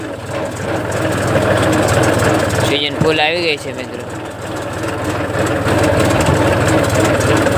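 A tractor engine drones steadily while driving a thresher, a loud, low continuous rumble with a brief mechanical whine in the middle, and someone talks over it throughout.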